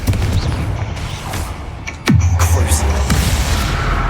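A Confringo fire spell in the Hogwarts Legacy game, a sudden booming blast midway that settles into a low rumble, surrounded by scattered combat cracks and bangs.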